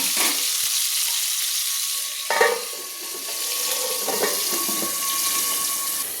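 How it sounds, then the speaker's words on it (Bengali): Potatoes fry in hot oil in a pan while cooking a yam and shrimp curry, giving a steady loud sizzle with a few brief clatters partway through. "আমি আলুটা ভেজে নিয়েছি তেলে"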